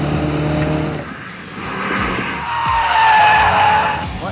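A Mini John Cooper Works brakes hard with tyres squealing and skidding, a loud continuous screech over the engine note that swells toward the end.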